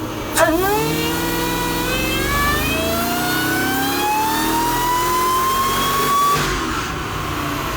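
A Mercedes E55 AMG wagon engine running on 52% ethanol, revving hard on a dyno run, a loud, sustained rising roar that climbs steadily in pitch for several seconds before backing off.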